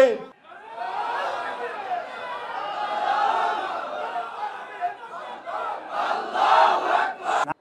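A large crowd at a Bangladesh Jamaat rally chants the takbir slogan in loud, swelling waves of massed voices, with the chant rising again near the end.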